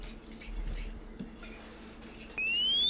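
Dry batter ingredients for catfish are stirred in a bowl, with soft clinks and scrapes of a utensil against the bowl, fairly quiet and close, followed by a thin rising tone near the end.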